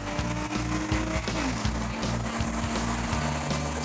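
A street car accelerating hard through a 400 meter run with wheelspin into second gear, its engine droning loud and steady with repeated rising revs and gear changes, continuous and close throughout.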